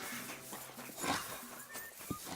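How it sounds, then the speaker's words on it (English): A dog in the medieval role-playing game Kingdom Come: Deliverance II gives soft, brief whimpering sounds, faint against quiet game ambience. "Good doggy."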